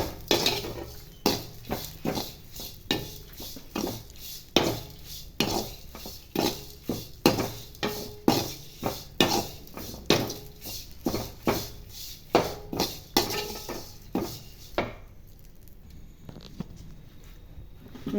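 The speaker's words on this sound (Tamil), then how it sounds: "கருவேப்பிலை நல்லா வறுத்தரணும்." Curry leaves frying in oil in a pan, with a spoon scraping and clinking rhythmically against the metal as they are stirred, over a soft sizzle, the stirring stopping near the end.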